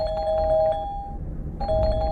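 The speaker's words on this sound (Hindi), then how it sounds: "लगातार बजती घंटी से उसकी नींद खुली" A doorbell chimes repeatedly at night, a bright electronic ring that sounds, pauses briefly into near silence, then rings again, close and clear.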